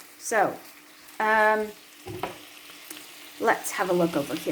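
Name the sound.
bacon sizzling in a frying pan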